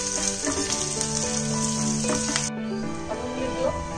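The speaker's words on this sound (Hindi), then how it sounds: "अब 1 मिनट के लिए हम इनको ऐसे सॉटे करेंगे" Vegetables for chilli paneer, briefly sautéed in a pan, hiss with a loud continuous sizzle and occasional stirring scrapes, the sizzle dropping abruptly partway through; no talk.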